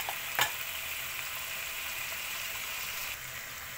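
Chicken jalfrezi with chicken, tomatoes and vegetables sizzles steadily in a pan while being stirred, with one brief clatter of a utensil near the start and a continuous close frying hiss throughout.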